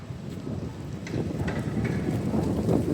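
Steady breezy wind gusting and buffeting the microphone while walking into Halifax Public Gardens, a continuous low rumble with no talk.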